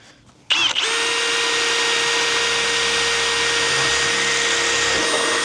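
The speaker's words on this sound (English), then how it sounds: "Now we're going to get our 7mm drill bit." A power drill with a 7mm bit starts abruptly and runs at a steady high-pitched whine, grinding continuously into metal, close up with no talking.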